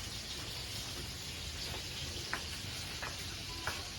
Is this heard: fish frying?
yes